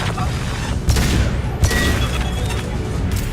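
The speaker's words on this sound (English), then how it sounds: "Watch out, flashbangs!" Flashbang blasts in the Mass Effect 2 shooter game, dull booming bursts near 0.9 and 1.6 seconds over a dense, noisy battle bed, loud and close.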